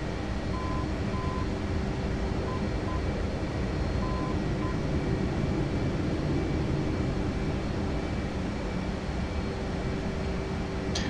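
F/A-18 jet in the DCS flight simulator running at full afterburner, a loud, dense, unbroken roar with faint steady tones and brief beeps layered on top.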